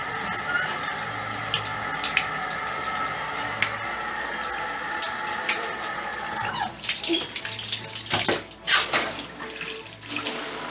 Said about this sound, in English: So I'm gonna turn the shower on and then we're gonna see if it keeps up.